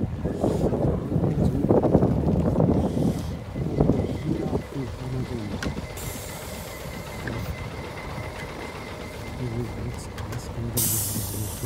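A bus pulls up at the Hilton Niseko Village stop on its run to Hanazono, its engine rumbling loudly with sharp air hisses near the middle and end, while voices and a recorded announcement play over it.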